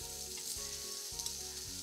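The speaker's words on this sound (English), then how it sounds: "You can hear it sizzle." Finely sliced salmon and raw prawns sizzle on a hot salt block, a steady, close frying hiss with a faint tonal hum beneath and a couple of small ticks.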